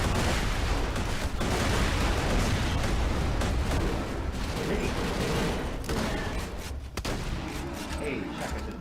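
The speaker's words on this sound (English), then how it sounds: "shotgun to the face" Shotgun blasts in Borderlands 2 in Frostburn Canyon, heavy repeated bursts within a loud, dense stream of gunfire and explosions, with a player talking over the combat.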